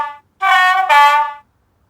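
A loud two-tone Class 37 locomotive horn from a model sound decoder sounds alone: a steady chord, then a slightly higher tone right after, with silence before and after.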